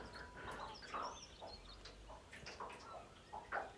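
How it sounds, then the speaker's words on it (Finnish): Faint bird calls ring out repeatedly outdoors in spring, short chirps and whistles scattered across a few seconds over soft background noise. "ainakin joku lintu tuolla huutelee"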